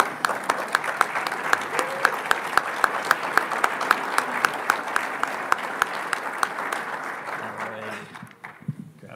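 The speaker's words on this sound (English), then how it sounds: "One more round of applause." Audience at a 100th birthday celebration event claps in sustained applause that stays steady for most of the stretch, with occasional sharper claps standing out, then fades near the end as a voice begins.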